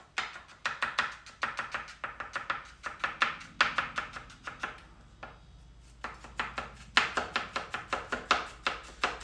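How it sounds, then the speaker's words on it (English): A knife chops garlic on a cutting board in rapid, close, crisp bursts of rhythmic taps separated by short pauses, with no talking. "And I'm going to chop down my garlic."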